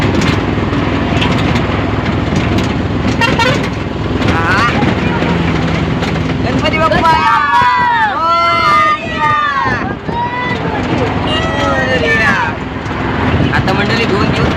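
A heavy state transport bus engine roars close by and passes along a road amid traffic noise and horns, with people talking over it.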